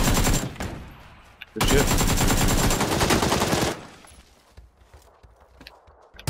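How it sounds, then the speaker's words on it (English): AK assault rifle firing in PUBG: loud sustained automatic bursts with a short early burst, a gap, then a long continuous volley, fading into quieter rumble; a brief spoken remark follows. "I hit him up with an AK."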